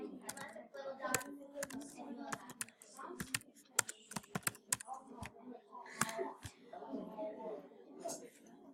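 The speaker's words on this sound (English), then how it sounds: "Okay, you said you type it in." Someone types a password on a computer keyboard to log in, with irregular clicking keystrokes in quick clusters and pauses, while soft voices murmur faintly underneath.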